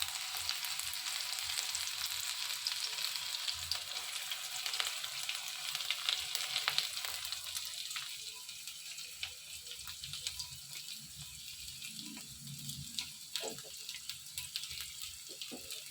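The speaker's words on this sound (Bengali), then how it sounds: "পেঁয়াজটা একটুখানি ভাজা ভাজা হবে।" Onion fries in a pan alongside crushed whole garam masala, giving a close crackling sizzle with scattered pops and stirring scrapes that eases slightly halfway through.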